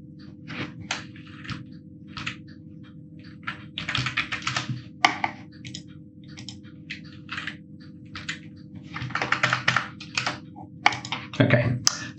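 Computer keyboard keys clatter in quick irregular bursts as a file is renamed while migrating a Drupal site, close and moderately loud over a steady low hum.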